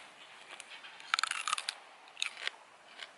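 Crisp snaps of a homegrown Chinese kale stem being broken by hand, a cluster of sharp cracking bursts followed by a second smaller burst, close and fairly quiet over a hushed outdoor background, no talking.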